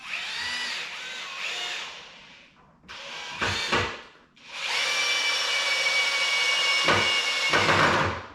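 A power drill whirs in bursts during work on a camper's solar panel array, first in a shorter run, then a brief stop-start pair, then a long sustained loud drive that ends with a few quick revs.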